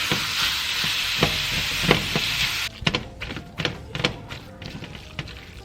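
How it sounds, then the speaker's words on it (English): Andouille sausage and ground beef fry in a pan, a loud steady sizzle with repeated knocking and scraping as a utensil breaks up the meat; the hiss drops midway and thumps and taps continue with no talking. "Now go ahead and break the sausage and the ground beef, and we're going to cook them until they are no longer pink."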